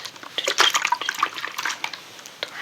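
Water sloshes and trickles up close for washing a face, in soft, intimate splashes and drips that come in irregular clusters without talk.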